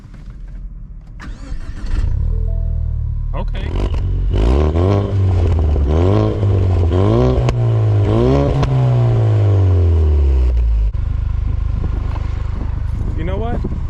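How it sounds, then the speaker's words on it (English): A Ford Mustang EcoBoost with an aftermarket exhaust cranks and catches, then revs repeatedly in rising and falling sweeps before settling to a steady, throaty idle; a brief word is spoken early on. "So I recommend this exhaust if you guys want to make your EcoBoost a little bit louder"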